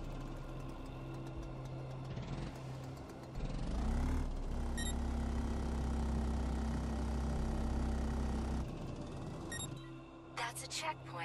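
A video game vehicle's engine in a driving training level idles with a steady hum, then revs up and holds a loud, sustained drone for several seconds before easing back, with brief electronic tones near the end.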